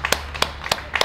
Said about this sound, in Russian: Все люди хлопают.